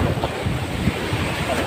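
Large sea waves surge and crash continuously and loudly, with wind buffeting the microphone throughout. No one speaks.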